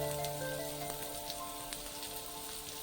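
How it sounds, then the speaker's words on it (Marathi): Onion sizzling in hot oil in a pan with green chillies that were fried first, a steady soft crackle with fine popping throughout, no talk. "मिरची भाजून झाली आहे, मी आता कांदा ऍड करते त्याच्यामध्ये"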